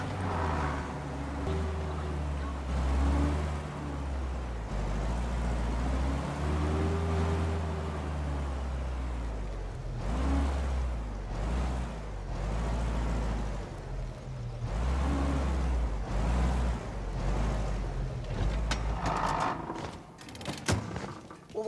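A car drives in the Mafia: Definitive Edition video game, its engine droning low and steady with rising and falling revs and a few clunks, no voices over it.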